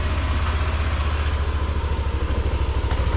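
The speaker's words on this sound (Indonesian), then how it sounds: "Kita nyalakan dulu motornya." A Yamaha NMAX Neo scooter engine idles steadily right after starting, a close, low, even throbbing pulse that holds without change and has no talking over it.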